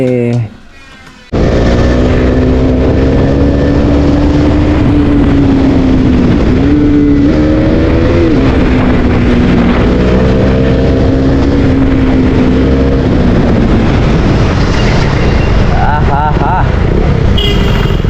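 A fully modified Husqvarna Svartpilen 250 motorcycle fitted with an under-belly exhaust is ridden, its engine a loud, continuous drone whose pitch rises and dips with the throttle, with wind rush throughout.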